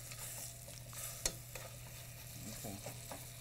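Rabbit pieces browning in a hot pan for mustard braised rabbit, a soft steady sizzle with occasional light stirring and one sharp clink, fairly faint.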